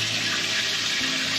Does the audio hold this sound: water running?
yes